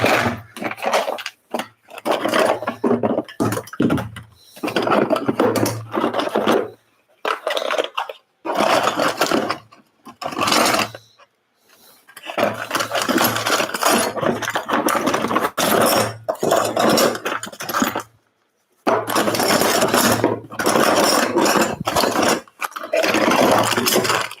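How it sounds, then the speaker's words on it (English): Older toolboxes are pulled out and handled in a workshop during an arcade cabinet build, giving continuous rattling, scraping and clattering in loud bursts separated by short pauses, with no talk. "Pulling out the older toolboxes now."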